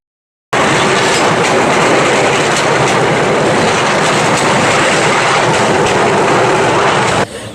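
A bamboo train rattles along old railway tracks in Cambodia, a loud, steady clatter and rushing roar that starts abruptly and continues without pause, with no talk over it.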